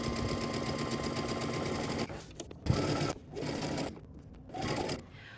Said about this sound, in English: So let's head on over to the sewing machine.